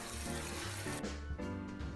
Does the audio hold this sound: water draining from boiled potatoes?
yes